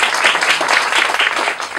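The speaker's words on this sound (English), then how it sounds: "Another round of applause for Phil" Loud, steady clapping from an audience at a county compost pilot program event, dense and continuous throughout with no voices on top.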